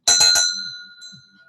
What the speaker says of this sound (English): requires that I ring the bell in your honor